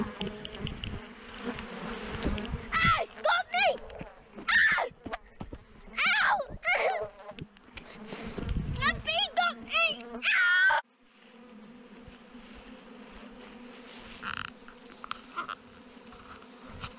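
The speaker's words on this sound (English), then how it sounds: "Just grab one handful of bees." Bees from a handled swarm buzz loudly in close, sharp bursts that rise and fade, with a steadier hum continuing as the bursts drop off near the end.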